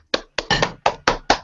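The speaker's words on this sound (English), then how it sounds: "I'll say congratulations and clap." Six sharp hand claps in an uneven rhythm, close and fairly loud, with a quick double clap near the middle and no talk around them.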